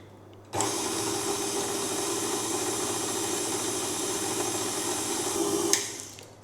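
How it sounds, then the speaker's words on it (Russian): An electric hand mixer whips egg whites and sugar, whirring steadily at high speed for several seconds, starting and stopping abruptly, with a faint whisking texture underneath. "Вот так посыпаем и начинаем взбивать."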